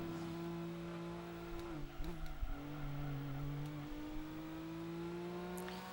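A yellow Volkswagen car follows closely behind on the road, a steady engine drone with shifting pitch as it revs and eases, heard from inside a moving vehicle.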